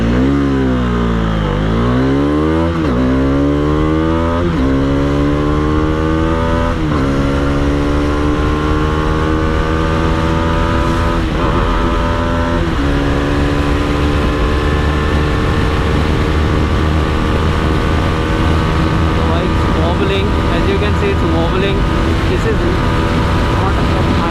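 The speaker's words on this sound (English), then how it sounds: "It is somewhat losing that character right now, and it feels way more like my KTM's engine." A 2019 Bajaj Dominar 400 motorcycle engine on the highway revs up through the gears, with rising pitch sweeps and a continuous loud drone plus wind rush, while a rider talks over it.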